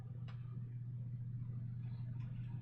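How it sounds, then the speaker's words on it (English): A loud computer fan drones with a steady, deep hum that sounds almost like an engine, continuous and even with no talking. "Wow, my fan is super loud."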